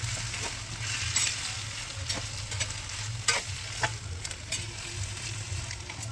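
Chicken sizzles steadily in a hot kadai, a soft continuous frying hiss broken by sharp scrapes and clinks of a spatula stirring the pieces, close by with no talking.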